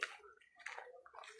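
Faint running water in Siquijor, Philippines: a brief, soft, steady splashing flow heard from a short distance.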